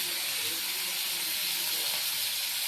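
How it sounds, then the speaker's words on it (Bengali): Prawns frying in hot oil in a wok (kadai), a continuous close hiss and sizzle holding steady and fairly soft, with no other sounds. "তাই কড়াইতে তেল গরম করে দিয়ে দিল চিংড়ি মাছ"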